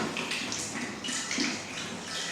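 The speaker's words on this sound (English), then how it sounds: "I have to quickly wash my hands again with soap and water" Hands being washed with soap under running tap water in a kitchen, a steady hissing splash with rhythmic rubbing and swishing pulses, close and moderately quiet.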